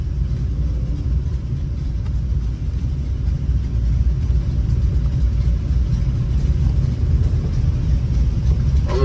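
Harley-Davidson motorcycles riding past on a road trip in Germany, a loud continuous engine rumble and rushing road roar that holds steady throughout with no voices.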